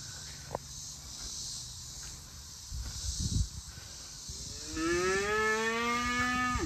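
Cattle on a small hobby farm, one long, loud, rising moo near the end after quieter rustling and shuffling, close to the listener.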